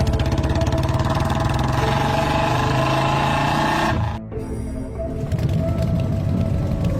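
A motorbike engine runs loud and steady at close range, dips briefly, then picks up again as the bike pulls away, with no voices over it.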